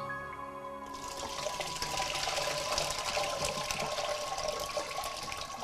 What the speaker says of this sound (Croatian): Sir je se slegnuo i sad ga možemo ocijediti. Pazimo da čim više sirotka ode iz njega